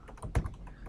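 A brief burst of computer keyboard typing, a few soft clicks with one firmer keystroke, faint and close.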